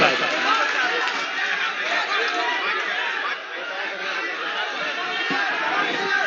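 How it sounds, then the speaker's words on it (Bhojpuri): A live audience gives Neha Singh Rathore a sustained round of dense, loud applause that holds steady for several seconds. "एक बार पुरजोर तालियां मोहतरमा नेहा सिंह राठौर साहिबा"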